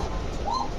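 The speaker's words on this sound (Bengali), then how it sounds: "ব্লু চেকার পাইট রেসার মাদি, এই কবুতর এখন মারাত্মক ডিমান্ড।" A blue checker racer pigeon, a female, gives one brief, soft coo over steady background noise.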